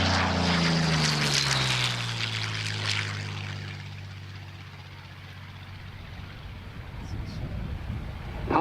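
A P-40N Warhawk propeller warplane passes low over the Geneseo runway at an airshow. The engine drones loudly, then the pitch drops and fades as it moves away, and a voice speaks under the receding sound.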